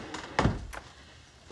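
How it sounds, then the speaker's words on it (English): A door being pulled shut indoors in a thriller film scene, one solid close thunk followed by a faint lighter knock, heard alone without talk. "Please close the door."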